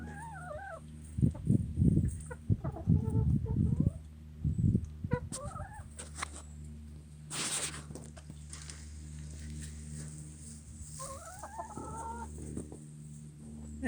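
Backyard hens cluck and murmur in and around their coop, bursts of close clucking separated by pauses, with one louder squawk and a low steady hum in the background.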